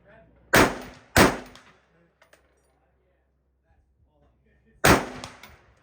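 Three sharp, loud gunshots ring out at an outdoor shooting range, two in quick succession and a third after a few seconds of near silence, each with a short decaying echo.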